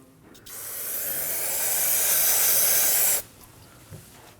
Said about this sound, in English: Now we're gonna use some brake parts cleaner and clean off any excess fluid.